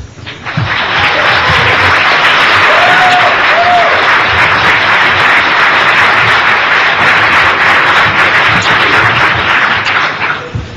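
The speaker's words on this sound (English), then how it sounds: "I suppose the applause is directed to you, not to me" Sustained applause from a plenary audience at a conference on drugs, crime and politics, a loud, dense wash of many hands clapping that swells in quickly, holds steady for about ten seconds, then begins to taper.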